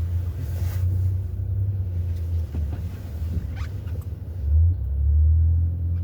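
Road traffic on Cowichan Wellington Road rolls past with a low, steady engine rumble that swells louder as a vehicle goes by close to the listener.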